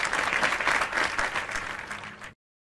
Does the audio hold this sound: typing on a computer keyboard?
no